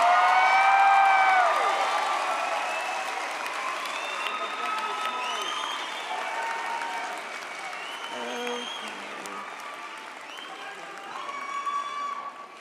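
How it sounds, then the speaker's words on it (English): Graduating social welfare students at a university commencement ceremony receive a loud burst of crowd applause and cheering with whoops, which gradually tapers off as voices and a public address voice come in over the fading clapping. "Let's give a round of applause to our BASW students once more."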